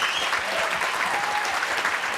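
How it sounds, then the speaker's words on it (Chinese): A studio audience on a Taiwanese televised singing-contest show claps steadily in dense, continuous applause, loud and sustained from start to finish. "大家给他掌声鼓励一下"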